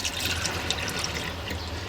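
Hot water running steadily from a tap in a VW Autosleeper Clubman GL campervan, a continuous close splashing flow.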